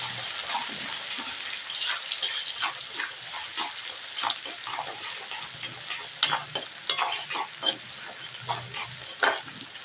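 Two large onions sizzle in a pan while being stirred, a moderate crackling fry broken by irregular scraping and clinking strokes, close up with no talking.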